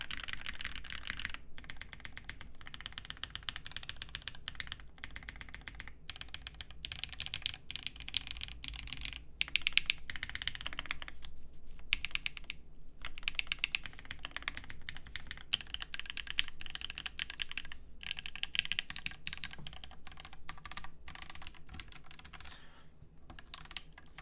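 Continuous rapid typing on a Mode Eighty mechanical keyboard with an aluminum plate, crisp close keystrokes clacking in uneven bursts with brief pauses, quiet background and no talking.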